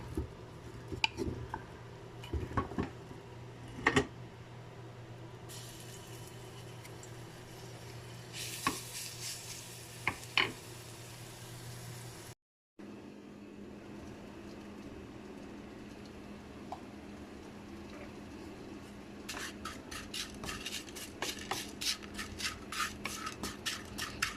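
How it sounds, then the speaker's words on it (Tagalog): Crushed garlic is sautéed in a little oil in a pan, with a faint, steady sizzle. Scattered clinks and scraping of stirring utensils sound close by, with a brief silent gap partway through. "Dinikdik ko lang guys yung bawang. Yan, igisa natin."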